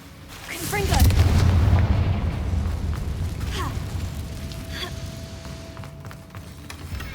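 Confringo fire spell in Hogwarts Legacy, a loud deep blast early on followed by a long rumbling, crackling decay with a few smaller pops and a faint tonal hum.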